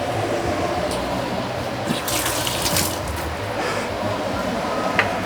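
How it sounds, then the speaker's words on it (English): Vegetable oil poured into a pan while cooking chow mein gives a steady, close liquid trickle with a few light clinks over faint kitchen background. "I'm going to put in some vegetable oil."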